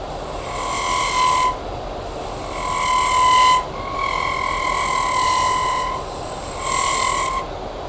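A resin pen blank from a vertical test pour spins on a wood lathe and gives off loud, high-pitched squeals in four long bursts, with short breaks of quieter motor hum between them.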